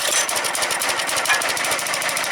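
Gas engine on a log splitter runs after the choke is eased off, a loud, steady rapid pulsing chug that fills the whole stretch with no talk over it.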